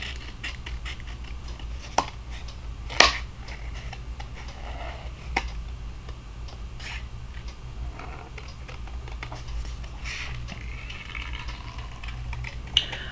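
A stamped card panel is trimmed by hand with small snips and faint ticking cuts, with a few sharper clicks scattered through a quiet close-up stretch without talking.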